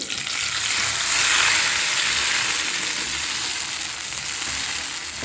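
Tomato puree fries in a lightly oiled pan, giving a steady, close, bright sizzle that holds loud and even throughout without talk.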